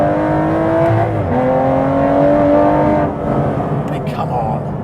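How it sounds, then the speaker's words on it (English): An Aston Martin Vantage GT12's naturally aspirated V12 revs up loudly and close, pitch rising and falling through gear changes, with a voice talking over the engine. "Normally aspirated V12."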